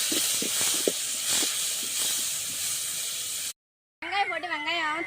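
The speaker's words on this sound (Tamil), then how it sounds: "இப்போ தக்காளி லைட்டாக வதங்கட்டும்" Tomatoes sautéing in a pan while making village-style sea crab curry, a steady close sizzling hiss with a few soft pops, cutting off abruptly before a voice begins speaking.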